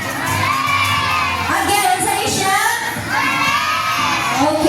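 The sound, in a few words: children shouting hooray and waving balloons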